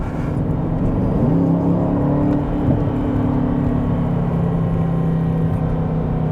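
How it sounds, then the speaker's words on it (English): A 2021 Aston Martin DBX SUV engine starts and runs steadily with a low rumble, rising briefly in pitch as it revs, then settling back to a constant idle hum. "We're going to start it up, and I'm going to rev it up a little bit."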